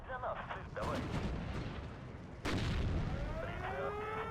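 Artillery fires in the real-time strategy game Steel Division 2 in two heavy booms a couple of seconds apart, each swelling into a sustained rumble over constant battlefield noise.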